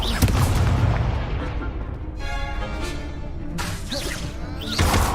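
Confringo fire-spell blasts in Hogwarts Legacy gameplay, loud booming impacts and whooshing bursts layered with crashes and a short ringing tail in the middle, a final heavy blast near the end.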